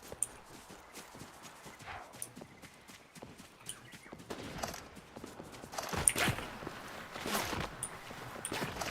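Horse hooves clop in a steady walking rhythm across a video game landscape, soft at first and then louder and busier, with scattered clicks and rustles around them.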